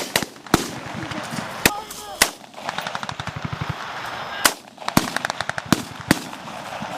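Gunfire in a military shooter video game: sharp single shots and rapid automatic bursts crack repeatedly at close range, with voices shouting between them.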